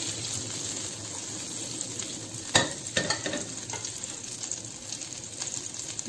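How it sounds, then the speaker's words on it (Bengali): Hot melted butter stirred in a pan for a Soviet-style omelette, a steady soft sizzle with a few scraping strokes of the utensil near the middle, close and alone. "মাখন প্রায় গরম হয়ে গেছে, একটু মিশিয়ে নিই।"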